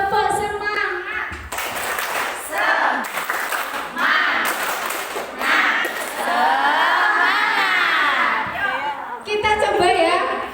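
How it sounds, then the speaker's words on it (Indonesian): A village hall audience claps together in a rousing chant-and-clap spirit routine, with many hands and voices mixed. Children and adults call out over the clapping, which keeps up loudly throughout. "Tepuk semangat dulu ya."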